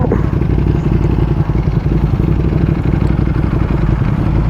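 Ducati Panigale V4S superbike on a London street, its engine running loud and close with a steady rumbling, clattering exhaust throughout; distinct pops are not clearly separated from the continuous roar.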